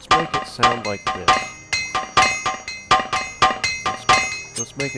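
Repeated metallic clanks and clinks of sword combat in the video game Morrowind: Bloodmoon, struck in a steady rhythm of sharp, ringing hits about twice a second, loud and close, with no talking.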